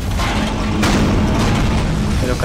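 A deep, booming explosion rumbles on a space station in the horror video game Dead Space, a loud, sustained low blast that holds steady for the whole moment without speech.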